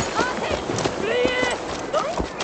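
Hooves of a horse galloping in Assassin's Creed Valhalla, a steady clip-clop running under someone talking throughout, with a short rising tone near the middle.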